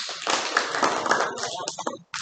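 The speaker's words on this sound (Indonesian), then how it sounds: "Iya, tepuk tangan." A classroom group claps together in dense, continuous applause, with children's voices mixed through it, ending in a brief pause and a final burst.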